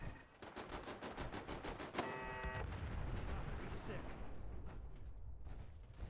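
Turrets at a Kismet Killbox in Fallout 4 open up in a fast, loud burst of repeated shots, followed by a steady roar of sustained gunfire and mechanical clatter that carries through the rest of the moment.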